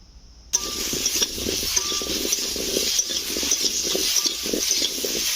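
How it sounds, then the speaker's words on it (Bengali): Potatoes sizzling in hot oil with a steady crackling hiss, broken by scraping and clinks of a utensil stirring the pan. "বন্ধুরা আলু ভাজা হয়ে গিয়েছে"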